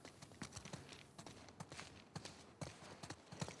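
Rhythmic clip-clop of horse hooves trotting on a hard surface in the video game The Last of Us Part II, steady and fairly close, with no talking.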